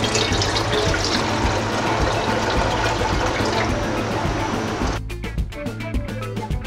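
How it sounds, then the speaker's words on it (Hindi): About one liter of water pours from close range into a cooking pot on a lit stove before rice goes in for Hyderabadi chicken biryani. The loud, splashing rush runs steadily and then breaks into a few final drips and sloshes. "पहले हम 1 लीटर पानी शामिल करेंगे।"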